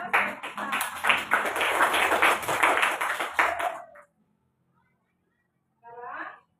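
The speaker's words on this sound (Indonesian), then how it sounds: "Kasih aplaus ya, Isa." Students applaud in a classroom for about four seconds of dense, steady clapping. A pause follows, then a brief voice speaks.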